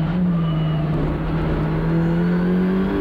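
Audi RS3 WTCR race car at full throttle on the Hungaroring, recorded onboard: a loud, steady engine drone with a rising tone as it builds speed, heard continuously over three seconds with no talk.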